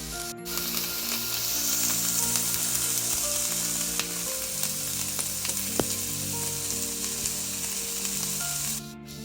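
Vegetables sautéing for a chilli tofu stir fry, a loud continuous sizzle with occasional scraping and clinks of stirring, close and steady with no voices.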